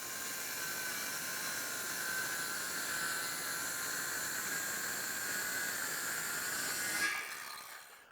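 A power saw cuts MDF along a guide with a steady, loud, high whine held for about seven seconds before spinning down, close and without talk.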